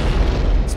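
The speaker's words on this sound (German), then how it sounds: "Explosions!" A dense, loud explosion blast fills the moment, a continuous low rumbling boom in the Happy Wheels video game with no voices over it.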